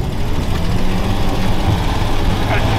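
Snowcat engine turning over and running rough, a loud continuous low rumble with uneven knocking pulses close by, steady throughout with no clear pauses.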